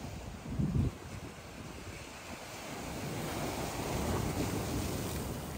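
Big ocean waves break at Boa Viagem beach in Recife, a broad steady roar of surf mixed with heavy wind buffeting the microphone and a louder gust near the start.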